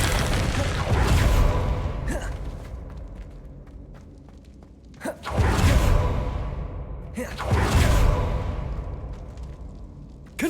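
Blasting spells Confringo and Bombarda explode in Hogwarts Legacy, three heavy booming detonations spaced a few seconds apart, each with a sharp crack and a long rolling decay, with whooshing magic between them.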